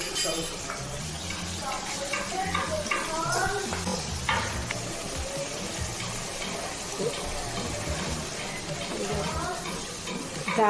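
A pan of frying paste, ginger, cashew and melon-seed paste with tomato, sizzles steadily while a utensil stirs and clinks against the metal in irregular scrapes and taps throughout.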